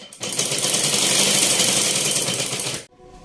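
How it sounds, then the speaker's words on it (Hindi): A sewing machine stitching a suit rattles in one fast, continuous burst of close mechanical whirring for about three seconds before stopping abruptly. "चलो टाइम का फायदा उठाते हैं और सूट को सिलाई कर लेते हैं"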